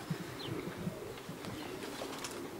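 Racing pigeons arrive at a loft during a competition flight, cooing softly in low repeated calls with some wing movement, faint and close against a quiet outdoor background.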